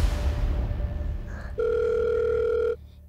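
A phone call is cut off, ending in a single steady electronic tone that sounds for about a second after some muffled handling noise.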